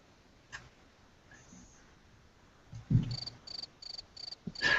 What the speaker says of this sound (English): Those crickets?